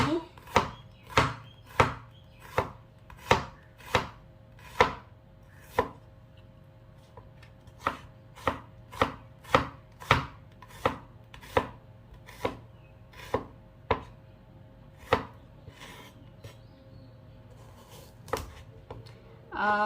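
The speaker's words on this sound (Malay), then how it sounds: "Kita hiris bawang merah ini." A knife slices shallots on a board in crisp, evenly spaced chops, about two dozen sharp cuts close up with brief pauses, and no talk over them.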